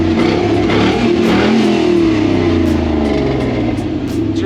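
An East Coast rock crawler prone to fuel buildup fires up and revs, a loud, close engine with wavering rising and falling pitch as the throttle is worked, running continuously with no voices.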